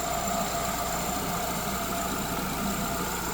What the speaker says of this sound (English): Running very smoothly, no funny noises there.